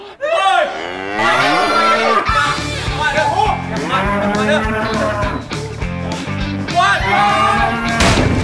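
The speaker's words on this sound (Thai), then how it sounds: "ฉันไม่ได้ด่าฉันหนีควายมา" Water buffalo bellowing in a village, several long loud moos in a row close by, with yelling voices mixed in.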